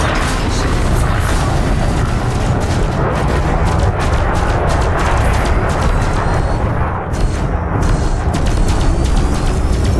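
Loud, sustained rumbling blast of a smaller enemy ship being destroyed in the space combat game Elite Dangerous, a dense continuous roar filling the whole stretch with crackling debris-like texture and no talk over it.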